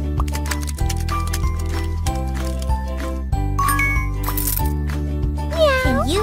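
Cheerful game music with a steady beat plays throughout, and a high, bright cartoon cat meow rises near the end over the tune, from the kids' pet-care game Kiki & Fifi Pet Friends.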